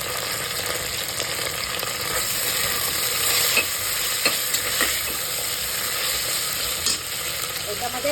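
Ginger garlic paste frying and being stirred into soybean pulao, a loud, steady sizzle close up with scraping stir sounds and occasional clinks, no talking.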